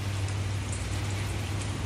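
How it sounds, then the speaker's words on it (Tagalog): Heavy rain at a work site in Kuwait, a steady dense hiss of falling water with no pauses, continuous and even throughout. "Madilim pa ang kalangitan. dahil umuulan."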